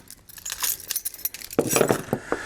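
Metal keys jangle and clink together on a keyring that also carries a small pry bar, shaken close up in a series of bright rattling bursts.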